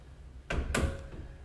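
A double door on a linen closet in a house opens with two close wooden thunks and a soft rattle, nearby and moderately loud in a quiet room.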